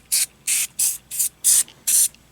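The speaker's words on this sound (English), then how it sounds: "We're going to go with the Spray Away All-Purpose Cleaner." Six quick, even bursts from a trigger spray bottle of Spray Away all-purpose cleaner with vinegar, each a crisp close hiss, fired in a steady rhythm.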